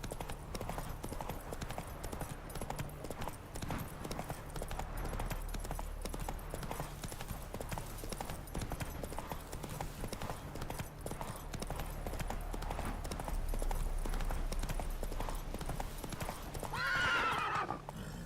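A horse in the video game The Witcher gallops with steady, rhythmic clip-clopping hooves throughout, then gives a sharp whinny near the end.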